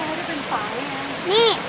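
A nine-tier waterfall gives a steady rushing wash of water throughout, while voices talk and call out briefly over it.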